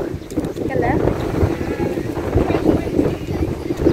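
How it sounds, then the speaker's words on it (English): Strong wind buffeting the microphone at a paragliding landing site in St Leu, a constant rough roar that rises and falls while a person talks over it. "I think the wind has gotten too strong."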